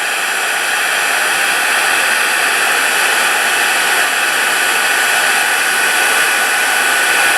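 A heat embossing tool blows hot air to melt embossing powder, a loud, steady, close-up hiss that runs without a break and with no talk over it.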